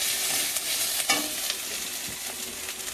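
Green chilli, five-spice seeds, garlic paste and ginger paste frying in oil in a wok, a dense continuous sizzle close up with a few soft stirring scrapes; no voices.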